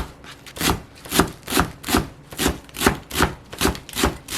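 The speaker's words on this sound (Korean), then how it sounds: "부추는 한 요정도 반쯤 정도 됩니다 더 잘게 썰어 주겠습니다" A knife chops garlic chives finely on a cutting board in a steady, even rhythm of about ten close, crisp strokes, with no talking.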